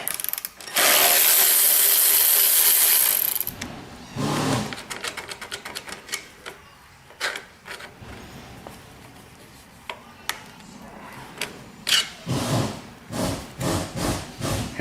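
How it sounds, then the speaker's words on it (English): A power tool whirs steadily for a few seconds while the air filter housing comes off a Kohler Command 14 engine, followed by a run of rapid ratcheting clicks and scattered metallic handling knocks close by. "Next we'll remove the air filter housing."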